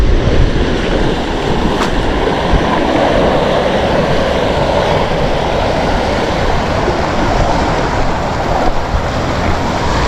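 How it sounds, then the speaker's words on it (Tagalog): Strong river current rushes through a narrow channel, a loud, continuous broadband roar of churning water that stays steady and close throughout with no voices. "Lakas ng agos oh."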